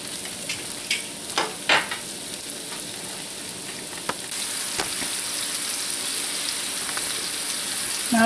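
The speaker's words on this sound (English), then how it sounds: "We'll just saute these lightly." Portobello mushroom caps saute in a cast iron pan, giving a constant sizzle with a few stirring scrapes and clicks early on.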